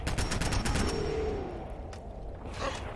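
Rapid gunfire from a firefight in Fallout 4, with a quick burst of close, loud shots at the start, then a lull and a few scattered shots later.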